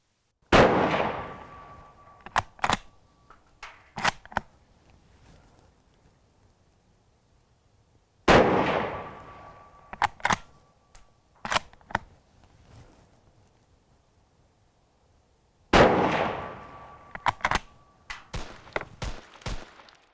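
Three loud, close rifle shots from an Arisaka Type 99, each a sharp crack with a long rolling echo, followed by several quick metallic clicks and clacks of the Mauser-style bolt being worked.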